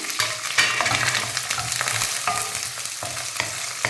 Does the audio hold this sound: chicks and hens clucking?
no